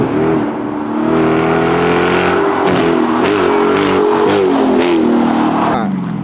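A Chrysler 300 Scat Pack swings around a corner, its engine roaring loud and close for several seconds, the pitch surging and easing as the driver works the throttle.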